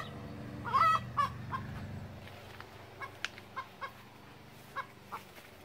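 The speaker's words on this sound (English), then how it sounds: "You're always squawking." A rescue hen squawks loudly up close, with a burst of agitated cackling at the start followed by a series of short, spaced clucks that fade away into the quiet.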